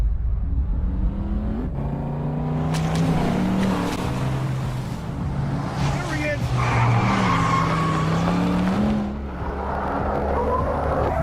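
A car in a John Wick-style action video game revs and skids, engine drone rising and falling with tire squeals, while a voice talks over the game sound.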